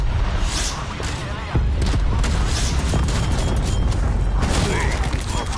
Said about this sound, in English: Get cruise missile airborne.